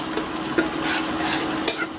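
Garlic, ginger and green chili sizzle steadily as they fry in a pan for mango pickle, with a few soft scrapes of a stirring spoon close by.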